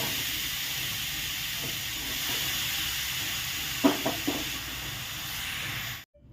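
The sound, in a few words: coconut and sugar mixture frying in a wok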